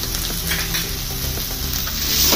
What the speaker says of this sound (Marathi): आता ह्यात हा उकडलेला जो बटाटा आहे ना हा सोडतो. थोडीशी हळद, चवीनुसार मीठ